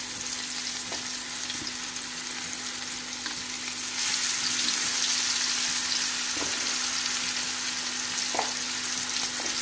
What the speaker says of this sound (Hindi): ये मछली मसाला हमने जो लगाया हुआ है, इसके जो पीसेज हैं हम हल्के हल्के से इसमें रखेंगे